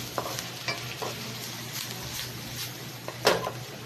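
Bangus (milkfish) sizzles steadily in hot oil over a low flame, a continuous crackling hiss with occasional soft clinks and scrapes of stirring.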